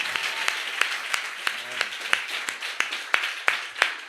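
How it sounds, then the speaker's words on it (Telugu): A church congregation claps at a religious gathering, with a steady rhythmic beat of sharp claps about three per second over a diffuse wash of hands and crowd noise. "నమ్మిన వాళ్ళు చప్పట్లు కొట్టండి"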